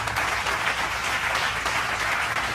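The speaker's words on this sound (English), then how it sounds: "Let's really get a round of applause for our final guest of the night." Studio audience applauding for a late-night show's final guest, a dense, steady wash of clapping at full level throughout, with no voices on top.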